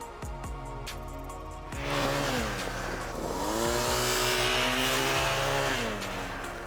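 A lighter BMW GS adventure motorcycle revving and accelerating hard while being ridden, its engine note rising and falling loudly and close, with no talk.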